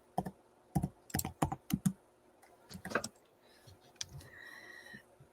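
Quiet clicking on a computer keyboard, with irregular bursts of keystrokes separated by short pauses and a few faint later taps, close and soft with no voices.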